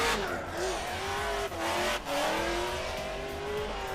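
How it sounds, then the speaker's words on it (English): A drift car engine at a drifting event at Pukekohe Park screams close by, its pitch rising and falling as the throttle is worked, with two brief dips where it lifts off. "Listen to the throttle."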